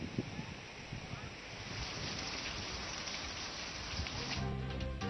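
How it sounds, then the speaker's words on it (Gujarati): Steady rain pours down in a dense, even hiss with wind noise on the microphone, with no pauses. "અનેક ગામોમાં ધીમી ધારે વરસાદ પડ્યો છે."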